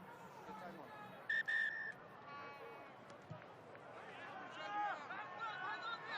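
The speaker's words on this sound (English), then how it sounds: "On attend un coup de sifflet. On the whistle." A referee's whistle at a Georgia v Portugal rugby match sounds in two sharp, loud blasts near the start, rising above a steady stadium crowd murmur, with a commentator talking throughout.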